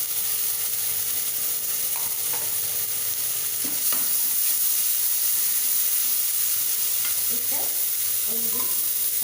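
Onion frying lightly in a pan for a quick breakfast sandwich, a steady soft sizzle and hiss with a few scraping stirs of the spoon, close and alone without talk.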